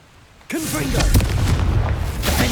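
Confringo blasting spell in Hogwarts Legacy, a sudden loud boom that bursts out of near silence and leaves a rumbling, crackling tail, with a voice speaking over it.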